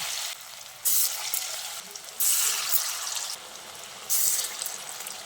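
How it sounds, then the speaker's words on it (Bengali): Cabbage pakoras deep frying in hot oil, a bright steady bubbling sizzle that swells loudly in several bursts as batches are stirred or added, with no one speaking. "একইভাবে বাকি পকোড়াগুলোও ভেজে নিচ্ছি।"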